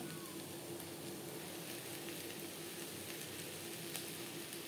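A dish of slit green chillies frying and being stirred on a stove: a steady, faint, even hiss of oil runs throughout with no voices.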